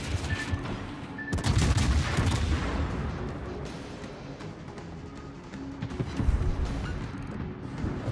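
Heavy naval gunfire from cruiser and warship batteries in World of Warships, loud overlapping booms and rumbling salvos rolling continuously with dense, thundering low end throughout.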